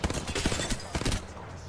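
Gunfire erupts in an Apex Legends match, rapid bursts of automatic shots in quick clusters that fade off toward the end.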